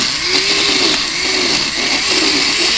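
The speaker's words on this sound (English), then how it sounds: "now we're pushing the greens in the blender and it's blending up just fine" Dynablend glass carafe blender chopping green salad greens, a loud steady whirring motor with a wavering pitch that dips and recovers as the leaves are pushed into the blades, heard alone.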